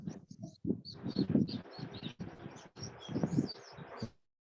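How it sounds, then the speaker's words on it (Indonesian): Birds chirp and tweet in quick, scattered calls over a low, muffled background rumble, heard through an online call's microphone, fairly close and continuous before cutting off abruptly. "Jadi kedengaran suara burung berkicau di sana."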